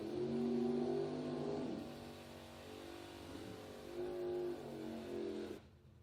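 An Overkill Pontiac Firebird drag race car at a bracket racing event accelerates hard, its engine note rising, dipping, then surging again before cutting off abruptly, heard at a distance and fairly faint.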